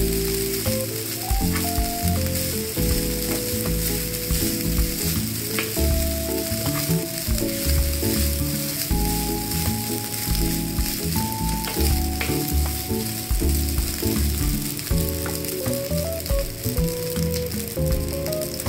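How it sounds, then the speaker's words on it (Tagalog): Fried rice (sinangag) sizzles steadily in a pan while being stirred, a continuous frying hiss with scraping under a layer of music, no talking. "Haluin natin ang ating sinangag."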